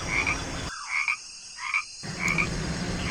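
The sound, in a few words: frog croaking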